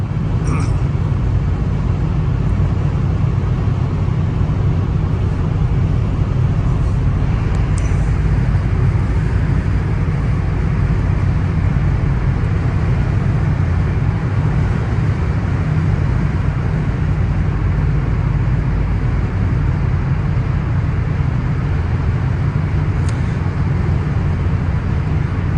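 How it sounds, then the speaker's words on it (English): Cabin of a 2000 Toyota Camry LE driving on a windy day, filled with a loud, steady low rumble of wind and road noise that holds constant throughout, with no one talking. "the wind noise inside this car is really not bad at all either"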